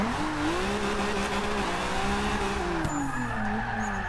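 In the racing video game Forza 6, a car drifts out of a corner with a continuous loud tire squeal riding over a steady, slightly wavering engine drone for several seconds.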